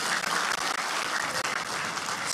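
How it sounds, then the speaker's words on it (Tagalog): A church congregation breaks into loud, sustained applause, many hands clapping in a dense, continuous wash with no voices over it. "Palakpak ang tanan"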